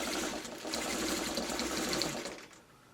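A sewing machine stitches fabric for a pet bed in a steady, fast whirring run that holds for about two and a half seconds before slowing and stopping, close and fairly quiet with no talk.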